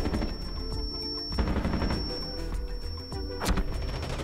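Rapid automatic gunfire from the new Scorpion gun in Rainbow Six Siege, a few quick bursts with sharp loud cracks amid game action, the last burst standing out.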